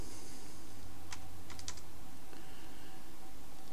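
Keystrokes on a computer keyboard while entering a program line in GRBL control software, a short quiet burst of several clicks with a pause and then a few more taps over low background hum.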